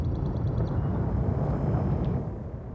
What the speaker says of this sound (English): Ship released. Engines engaged.